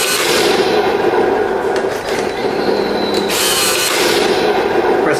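A Heng Long Challenger 2 Pro RC tank with its recoil feature produces a steady loud mechanical whir and buzzing with a slight dip midway, continuous throughout without distinct separate shots.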